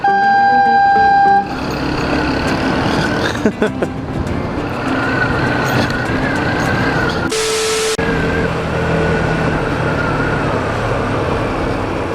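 A loud truck horn blast opens the clip, then heavy traffic rumbles on with another brief high tone and engine noise nearby.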